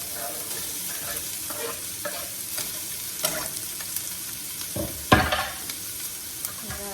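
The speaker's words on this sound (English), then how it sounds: "gonna go ahead and throw these onions in the frying pan. Get my garlic going. It's gonna join the oil." Onions and garlic fry in oil in a pan with a steady low sizzle, while a utensil stirs them with intermittent scraping clicks and one louder knock.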